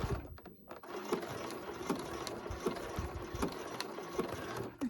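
A sewing machine tacks an elastic waistband into position between pins, its motor running steadily for about five seconds with a fine rhythmic stitching pulse and light rattle, close and moderately quiet, with no talk.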